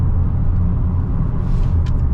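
A Subaru WRX with a 6-speed manual gearbox drones with a steady low engine rumble from inside the cabin, continuous and fairly loud with no talking.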